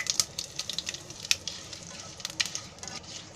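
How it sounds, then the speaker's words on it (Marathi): Cumin, curry leaves and a pinch of asafoetida crackle softly in a hot pan while being stirred, faint sizzling with sharp little pops scattered irregularly throughout. "हे असं हलवून घ्यायचं, म्हणजे जिरं बिरं भाजलं आहे"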